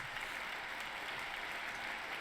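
An applause sound effect played on a game stream: a dense, even crowd clapping that holds at a steady level for a couple of seconds, with no voices over it.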